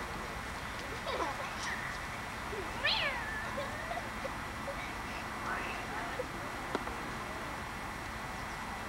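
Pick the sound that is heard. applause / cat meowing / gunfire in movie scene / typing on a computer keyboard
cat meowing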